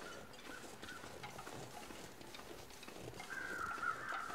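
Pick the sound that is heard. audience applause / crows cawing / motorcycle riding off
crows cawing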